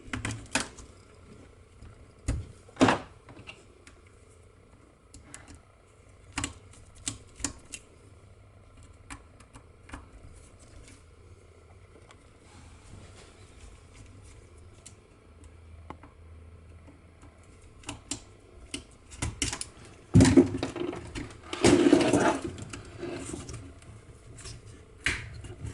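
Connectors are unplugged one by one from a Fasfold Delta servo drive, giving scattered sharp plastic clicks and ticks with quiet gaps and a busier cluster of handling noise toward the end.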